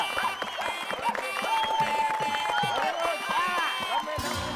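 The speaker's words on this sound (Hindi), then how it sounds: "जोरदार तालियां, बहुत बढ़िया" Applause and cheering from a residential society crowd at a Gokuldham dance performance, with lively chatter and voices mixed over the clapping throughout.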